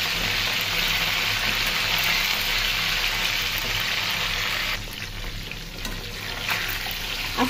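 Eggs fry in plain oil with no turmeric or spices, a loud, constant hiss and crackle of sizzling that runs nearly unbroken, easing off slightly partway through before continuing.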